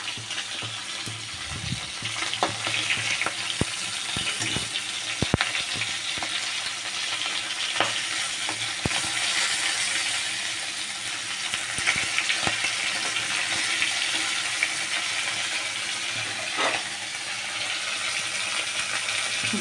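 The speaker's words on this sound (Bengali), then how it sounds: "মাছগুলো ভাজছি।" Pieces of fish fry in a pan with a steady, fairly quiet sizzle and occasional soft clicks and scrapes as they are turned.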